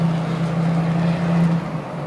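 Large truck engine droning steadily while driving, a loud low hum that holds even through the clip with wind and road noise over it.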